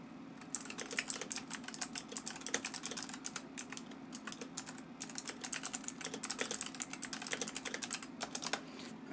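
Rapid, steady typing on a computer keyboard, dense clicks and key taps clattering continuously at close range over a low steady hum, with no talking.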